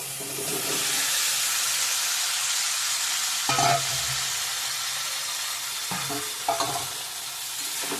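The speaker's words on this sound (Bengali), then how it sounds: "ভেজে রাখা আলু পটলগুলো দিয়ে দেবো" Loud steady sizzle as fried potatoes and pointed gourd are added to onions in a pan, with several scraping stirs and clatters of a spatula, no talking.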